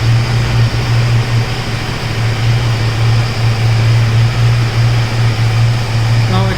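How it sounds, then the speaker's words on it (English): KTM Duke 250 BS6 motorcycle engine running in first gear, loud, close and noisy, with a steady low droning hum that holds throughout and a jerky, rough character. "It gave me a jerk and extremely noisy. It's in first gear guys"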